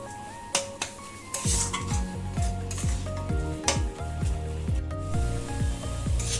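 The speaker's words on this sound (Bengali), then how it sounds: "এবারে এটা নাড়াচাড়া করে যে জলটা আছে সেটা একদম শুকনো শুকনো করে ফেলবো।" Bottle gourd and moong dal are stirred in a pan as the water cooks off, giving a soft, continuous sizzle with repeated metallic scrapes and clinks of a spoon against the pan in an irregular stirring rhythm.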